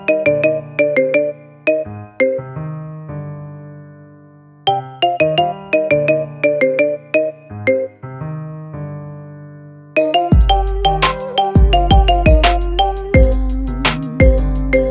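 A marimba remix ringtone of a song plays bright, plucky mallet notes in repeating phrases, with a fuller beat and bass kicking in near the end. The music is loud, close and alone, with no voices.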